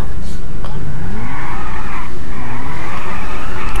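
Yamaha Mio motorbikes drag race in the video game GTA 5, a loud, continuous engine roar with tire skidding and shifting pitch, with talk running over it.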